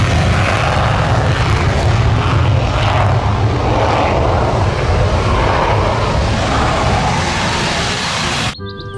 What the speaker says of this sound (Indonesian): Yang ini namanya pesawat jet tempur ya,